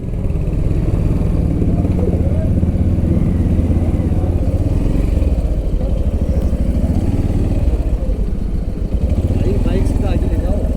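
Motorcycle engines idle and rumble steadily amid a mountain-road traffic jam near Chopta on the way to Tungnath, a continuous low drone with occasional clatter and thumps, while people talk over it.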